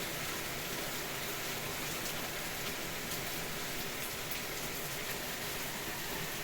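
Steady, dense rain pours down close by in a constant hiss of drops striking surfaces, unbroken from start to finish, with no voices.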